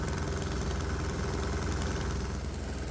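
A diesel engine runs steadily with a vaporizer fitted, a constant low, rumbling drone with an even mechanical vibration and no break or change in pace throughout.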